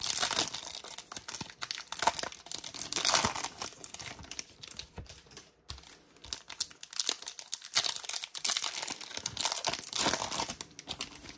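Bowman baseball card cold pack wrapper being torn open, a steady run of close, loud crinkling and ripping foil with brief pauses, no talking.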